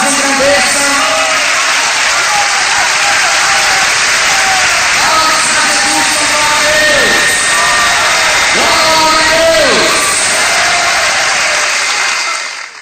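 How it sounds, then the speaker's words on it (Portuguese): Loud, sustained applause from a church congregation, a thick roar of clapping mixed with cheers, whoops and shouted voices that holds steady for several seconds before cutting off. "e as palmas engrandeçam"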